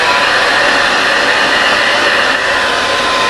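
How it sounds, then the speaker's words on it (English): A hair dryer blows steadily at close range, a constant loud whooshing hiss with no pauses. "Just use a normal hairdryer."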